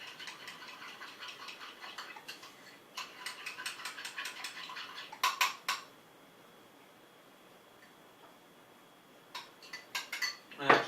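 Utensil scraping and clinking against a bowl while hot sauce is stirred into salad dressing for a healthy buffalo chicken pizza, a run of quick light rattling taps that goes quiet partway, then a few closer clicks return.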